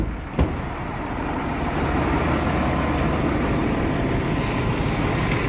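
A truck engine idles nearby in a steady, continuous low rumble, with no voices over it and one brief knock near the start.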